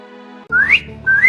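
In a cartoon, a girl whistles to call animals out of the trees and burrows: a bright, rising whistle glides upward, breaks off, then returns as a second, steadier tone over a soft background.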